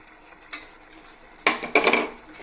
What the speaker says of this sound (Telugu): వేసుకుని బాగా కలుపుకుందాం.